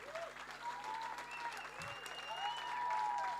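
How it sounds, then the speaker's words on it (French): Sustained clapping from the audience at an end-of-year church show, dense and steady, with voices and cheers rising through the crowd and growing slightly louder toward the end. "On peut encore les applaudir"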